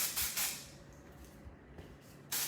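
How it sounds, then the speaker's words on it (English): Dry texture hair spray hisses from an aerosol can in short bursts, one at the start and another at the end, close and fairly loud, with quieter hair handling between them. "I use the dry texture spray."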